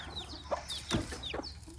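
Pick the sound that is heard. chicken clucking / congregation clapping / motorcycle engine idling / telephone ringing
chicken clucking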